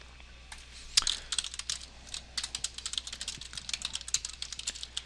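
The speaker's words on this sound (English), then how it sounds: "And I'll just type a quick description for what I'm doing." Rapid keystrokes on a computer keyboard as a short description is typed into a work order's financial fields, irregular bursts of close clicks continuing steadily with no talk.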